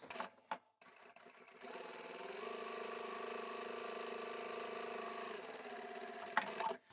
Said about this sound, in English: we'll take this to the machine and top stitch around the two long edges and one short edge